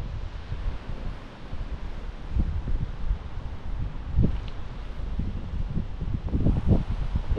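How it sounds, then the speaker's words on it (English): Steady wind blows across a lake on a crappie fishing trip, a continuous rushing roar with gusty low rumbles, close and loud against the microphone, with no talking. "As soon as this wind decides what direction it wants to blow"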